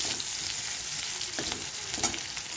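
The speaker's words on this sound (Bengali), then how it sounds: "এবারে আমি কিছুক্ষণ ভেজে নেবো লাল করে" Onions and garam masala fry in oil tempered with panch phoron, giving a steady, close sizzle with a light stir near the end.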